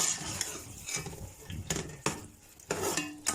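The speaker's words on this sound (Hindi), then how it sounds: "अच्छी तरह से मिक्स करते जाएंगे।" Mustard greens for sarson ka saag being stirred in a pot with a spoon after a spoonful of oil goes in, giving scraping clinks of metal on the pot with a few sharper knocks over a low background hiss.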